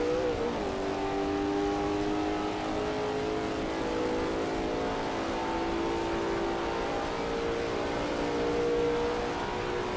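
A Lola T70 MkII Spyder race car lapping Kyalami in a video game, its engine holding a sustained, loud droning note with pitch slowly rising and falling through the bends, with no voices.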